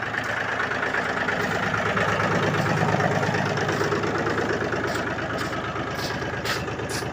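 Small tractor engine idling steadily before driving off on a snowy, slushy village farmyard, a continuous close rumbling drone that holds even throughout with no talking.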